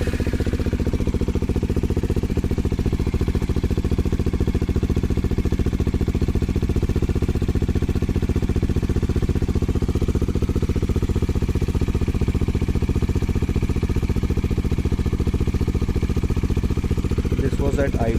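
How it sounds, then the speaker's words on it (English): Bajaj Dominar 400 motorcycle fitted with an IXIL X55 full-system exhaust, idling close up with a loud, steady, deep burbling thrum that holds constant throughout. "this is IXIL's full system exhaust on my Dominar."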